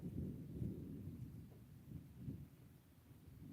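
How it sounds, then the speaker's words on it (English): Low, rolling rumbles of thunder far off to the south, swelling and fading in a steady murmur with no voices, accompanied by a soft wash of rain-like noise in humid haze. "there it's thundering south of us."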